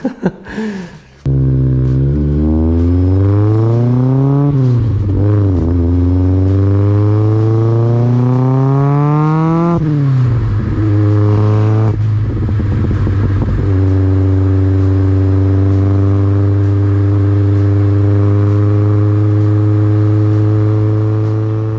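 A loud Opel Manta engine with individual throttle bodies revs up and down through a throaty Madelius sports exhaust, rising in pitch in several pulls, then settling into a deep, steady drone.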